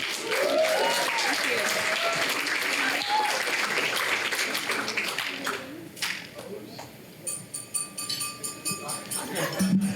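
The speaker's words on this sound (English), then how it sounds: "How about another round of applause, ladies and gentlemen" Wedding reception audience applauding the newlyweds, a dense, steady wash of clapping through most of the stretch that thins toward the end, with voices and brief musical tones rising over it.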